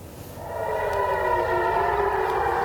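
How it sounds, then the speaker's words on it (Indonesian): Air raid sirens wail over Jerusalem, a steady, rising civil defense tone that swells in the first half second and then holds loud and continuous with layered harmonic drones, with no voices. "Sirine seperti yang kita simak ini pemirsa terdengar meraung saat Israel dan Iran saling melancarkan serangan"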